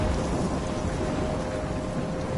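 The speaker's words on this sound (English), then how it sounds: "I'm trapped in a storm?" Steady heavy rain pours with a low rumble of thunder in a storm scene from the Life is Strange video game, a dense unbroken wash of noise.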